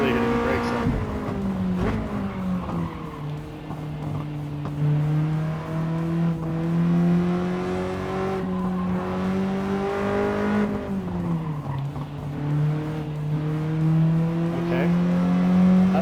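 A race car engine in Gran Turismo 7, a Civic or Integra on track, holds a loud, steady drone that rises and falls with shifts and braking, with a driver talking over it at times.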